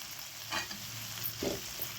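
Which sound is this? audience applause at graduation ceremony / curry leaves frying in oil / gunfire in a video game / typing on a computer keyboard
curry leaves frying in oil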